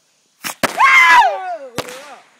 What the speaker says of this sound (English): everybody start shooting off fireworks